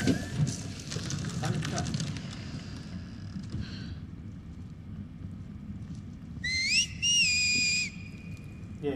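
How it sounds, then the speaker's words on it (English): Melodic whistling from a character in The Last of Us Part II, a rising and falling pair of clear tones heard near the end after a stretch of rustling footsteps, shuffling and a low outdoor ambience. "Yeah, you gotta stop that whistle."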